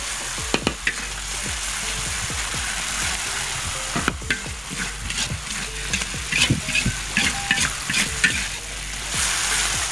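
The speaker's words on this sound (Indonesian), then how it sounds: "Oke, kita tumis dulu bumbunya." Constant loud sizzling in a hot pan with repeated scraping and clattering of a utensil as spice paste is stir-fried, close up, with no talking.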